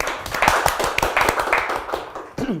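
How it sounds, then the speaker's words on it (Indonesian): A small group claps to welcome a guest in an office studio, a burst of sharp, fairly close hand claps with a few voices mixed in, tapering off near the end. "Tepuk tangan lagi dong."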